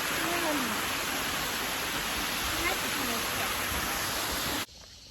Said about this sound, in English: Hey, we actually found a waterfall.